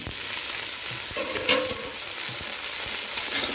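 Sweet potato, white potato and carrot frying in oil with softened onions in a pan, giving a steady close sizzle with a few soft stirring scrapes, no voices.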